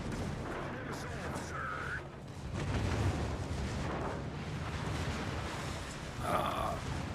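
Distant naval gunfire, with ships firing high-explosive shells in a battleship video game, comes as dull booms and rumbling over a dense noisy game soundscape, with a few sharper effects near the end and faint speech underneath.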